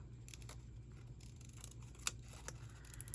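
Scissors snip through a paper printable in a few quiet, separate cuts, the crisp blade clicks spaced irregularly over a low steady background hum.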